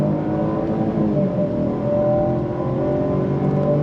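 A 2024 Jaguar XF engine drones steadily with rising harmonic tones, a continuous close-up hum of acceleration on throttle in second gear with no voices.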